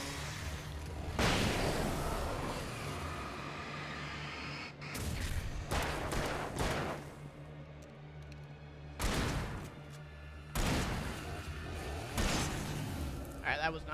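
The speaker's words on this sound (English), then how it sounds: "No, throw a flashbang." Flashbangs and gunfire in the video game Alan Wake; several loud bursts and explosive booms spaced across the span, with a person talking over the game sounds.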